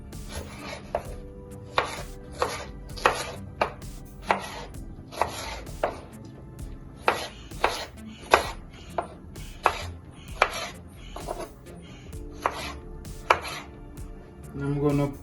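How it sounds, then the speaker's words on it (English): A knife cubes fruit on a cutting board in quick, close, sharp chops that come in uneven bursts with brief pauses, heard alone. "And I'm gonna go ahead and cut in cubes."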